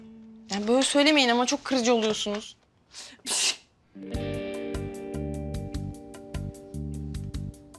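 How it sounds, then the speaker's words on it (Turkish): A sneeze bursts out in a Turkish television drama scene, coming right after a woman's spoken line and followed by a loud, steady music cue; the sneeze is close and sharp. "Niye hapşırıyorsun sen?"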